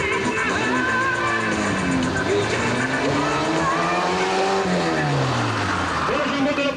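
A car at a live rodeo stunt show revs and slides with swooping engine pitch and tyre squeal, loud and close, while an announcer speaks over it.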